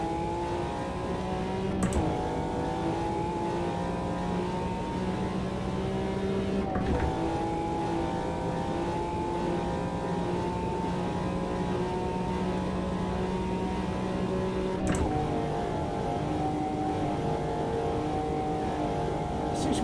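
A McLaren F1 V12 LM in the Automobilista 2 racing game holds full throttle near top speed, a sustained high engine drone with a few brief gear-like breaks in the tone.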